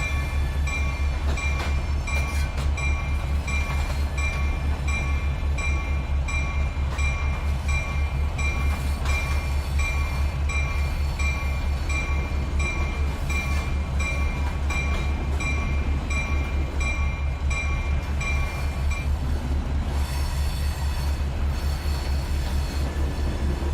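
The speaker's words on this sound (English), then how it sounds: "This is the CSX SD70M interior." A CSX SD70M diesel locomotive running in the Trainz 2019 simulator, heard from the cab interior as a steady, loud low engine drone with a constant rumble and faint high tonal whine throughout.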